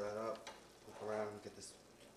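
A sizzling dish with a bay leaf is stirred in a frying pan, with soft scraping and crackling close by beneath a person talking.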